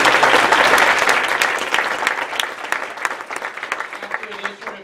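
Audience applause at a theatre awards ceremony, a dense steady ovation that gradually thins into scattered claps near the end, with some talk underneath.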